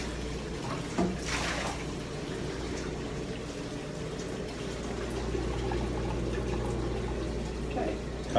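Water pouring and splashing as a fryer vat is rinsed out, a steady, fairly faint rushing wash with a couple of brief clanks near the start.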